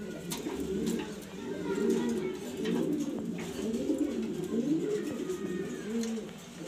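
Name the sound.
pigeons cooing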